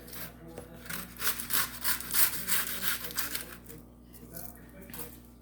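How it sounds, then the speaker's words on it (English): A knife trims the puffed-up edges of baked puff pastry layers for a French Napoleon cake, giving repeated close scraping, sawing strokes in an uneven rhythm over a steady low background hum. "Trim it off where it's puffed up kind of high at."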